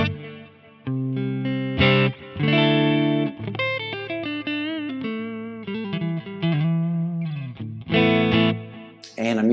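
An electric guitar, an HSS Stratocaster, plays a melodic phrase of chords and single notes through a clean Lone Star amp capture into a 2x12 cabinet, with reverb and delay adding a spacious tail.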